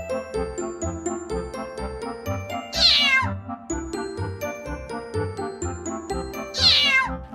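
Musical tones play in a repeating pattern while a cat's meow rises twice, loud and close, layered into the melody.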